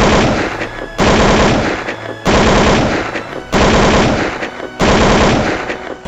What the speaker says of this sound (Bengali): তখন শুরু হয়ে গেল গুলির বিনিময়।